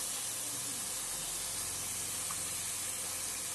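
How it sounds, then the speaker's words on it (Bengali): Ground spices frying in a pan for lau dal, a Bengali bottle-gourd lentil dish, with a steady, even hiss and sizzle throughout and no voices. "ধনে গুঁড়ো, একটু ভালো করে কষিয়ে নেব।"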